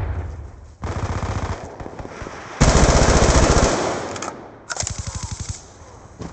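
A Scorpion quad-feed machine gun fires in several long, rapid bursts separated by brief pauses, loud and close, with a dense rattling rhythm.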